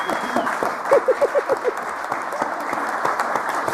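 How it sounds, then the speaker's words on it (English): At a ministerial funding announcement, an audience claps steadily throughout. A short burst of voice-like sounds rises briefly over the applause near the start. "So that's where we all applaud."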